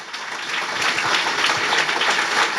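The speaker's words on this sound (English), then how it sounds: "We need another good round of applause." Dense audience applause at a tech meetup fireside chat, a steady wash of many hands clapping that holds strong and close throughout.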